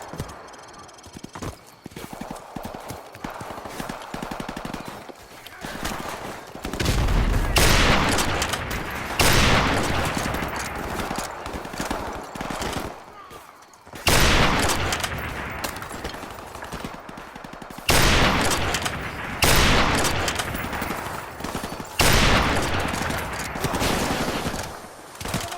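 Heavy gunfire in the Call of Duty: Modern Warfare remastered campaign, loud sustained bursts and rattling volleys that rise and break off several times over half a minute, with brief quieter gaps between them.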